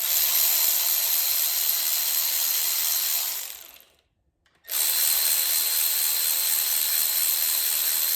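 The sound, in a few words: ratchet unbolting connecting rod bolts on Audi VW 2.0T engine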